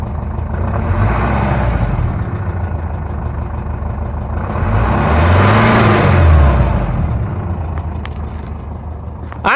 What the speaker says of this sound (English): I'm going to give you a little rev here.